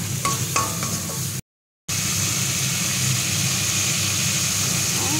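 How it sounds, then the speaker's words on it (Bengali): Garlic, ginger, salt, turmeric, cumin and chili powder stir-fried in hot oil, a steady sizzle with scraping stirs, close and continuous, briefly cutting out. "রসুন আদা ভালো করে কষিয়ে নিয়ে লবণ, হলুদ, জিরে গুঁড়ো, লঙ্কার গুঁড়ো দিয়ে ভালো করে ওকে মাখিয়ে দিই।"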